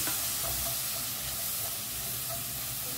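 Soy sauce is stirred into prawn Hakka noodles in a hot frying pan, giving a steady close sizzle and hiss with scraping stirring scuffs throughout and no voices.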